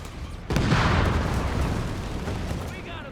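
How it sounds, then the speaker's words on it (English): A grenade goes off in Company of Heroes 3, a loud boom that hits early and rolls on with a long rumbling tail amid battlefield noise, with no talk over it. "or just a regular grenade."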